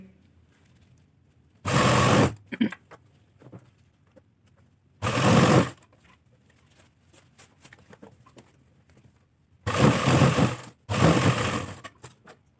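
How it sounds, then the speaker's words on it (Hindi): A sewing machine stitching elastic into a salwar runs in four short bursts of rapid mechanical whirring, each about a second long, separated by quiet pauses with faint handling noises, close to the microphone. "यहाँ से इलास्टिक को खींचते जाएंगे इस तरह से और आगे सिलाई लगाते जाएंगे"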